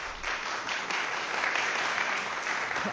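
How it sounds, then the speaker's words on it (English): Audience applause fills a city council meeting chamber, a steady wash of clapping from many hands lasting a few seconds without a break. "Please hold your applause."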